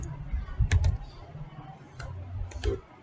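Typing on a computer keyboard, a handful of soft, close key taps spaced irregularly over a few seconds, with faint background noise and no speech.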